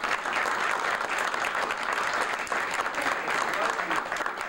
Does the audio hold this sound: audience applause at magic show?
yes